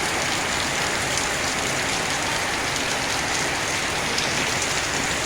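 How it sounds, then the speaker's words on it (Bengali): Heavy rain pours down in a loud, unbroken hiss, with dense drops drumming on surfaces and no voices. "আপনারা দেখতে থাকেন বৃষ্টি হইতেছে"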